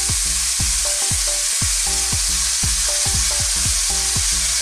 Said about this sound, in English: I'm gonna drop in some tomatoes, which I'm gonna serve this with